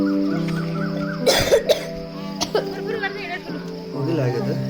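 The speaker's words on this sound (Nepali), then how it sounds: "खोकी लाग्यो त" A single sharp cough breaks through the talk of people on a hiking trail at Budhanilkantha Bhasanthali, with voices continuing before and after it.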